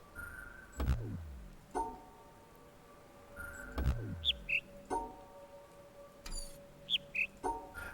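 Birdsong in the video game The Witness: two short pairs of chirps, one high and one lower, set against soft game ambience with occasional low thuds and whooshes.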